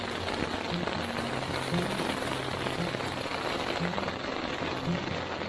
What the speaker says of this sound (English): And it's raining pretty good too.